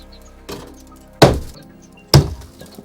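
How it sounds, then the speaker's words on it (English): Three sharp impacts strike a double-glazed train window, the later two loud and shattering as the inner and outer panes break, each ringing out briefly before the next blow. "The windows are double glazed, so keep striking until both the inner and outer panes are broken."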